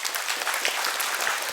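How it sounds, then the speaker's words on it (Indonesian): A crowd gathered for a talk applauds in a dense, even burst of clapping that stays constant and fairly close throughout. "Tepuk tangan gitu, mon."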